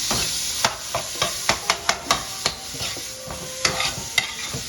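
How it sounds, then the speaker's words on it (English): Ground meat seasoned with garlic powder frying in a pan for spaghetti sauce, stirred with repeated sharp scrapes and clicks of the utensil over a steady close sizzle, with no talking. "we got to keep and stir the meat till it finish"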